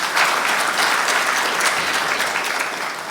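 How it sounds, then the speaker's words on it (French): Audience applause at the Prix Galien Afrique award ceremony in 2025, a dense, steady wash of many hands clapping loudly throughout, easing slightly near the end with no talk over it. "Vous pouvez encore vous applaudir, mesdames, messieurs, très fort."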